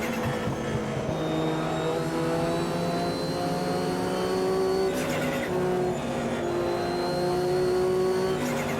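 Historic sports race cars pull away from the start of a one-hour race at Interlagos in the Automobilista 2 sim, engines revving and climbing through gear changes, tires squealing, with several cars loud and close together throughout.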